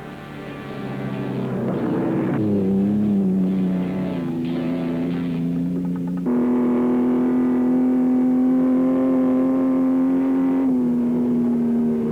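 A Ford Bronco in a 1960s off-road desert race drones past with a sustained engine whine that shifts pitch as it revs and changes gear, loud and unaccompanied by voices.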